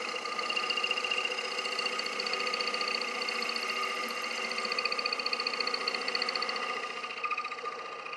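A bowl gouge cutting wood on a spinning lathe, a steady, close, buzzing whir with layered tones and a fine rapid flutter, holding constant and easing slightly near the end.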